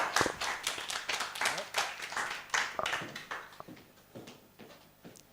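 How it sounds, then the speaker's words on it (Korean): A church retreat audience claps together, a burst of brisk, fairly loud overlapping hand claps that gradually thins and fades over several seconds, with voices mixed in among the clapping. "박수 한번 쳐주시죠."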